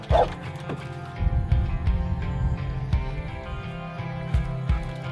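Retired military working dogs bark and yip in quick uneven bursts, with whimpers mixed in, fairly close over a busy background of steady noise.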